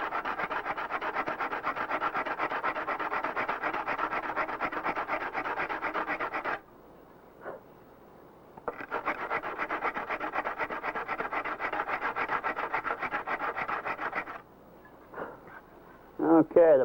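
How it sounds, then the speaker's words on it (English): Long stretches of steady, rhythmic abrasive rubbing of a sanding block worked back and forth on a free flight model aircraft, with a short pause midway and a few knocks near the end. "So you can end up just sanding that little puddle off all by itself without really undercutting anything else."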